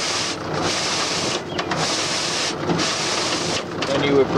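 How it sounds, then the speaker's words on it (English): A Clipper 2B seed cleaner runs steadily, a broad dense mechanical whir and rattle with brief dips in intensity, loud and continuous throughout. "This is the cleaner running, so you would do it every once in a while, cleaning the screen."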